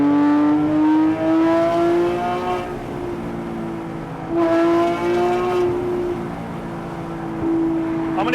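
Porsche 997.2 GT3 RS exhaust heard from inside with the windows down, a loud rising engine note climbing through the revs in two strong pulls, easing between them, with no talk over it.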